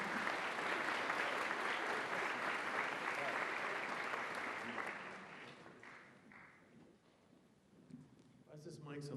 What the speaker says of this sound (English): Let's give them a warm round of applause for all their hard work.